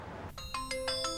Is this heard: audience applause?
no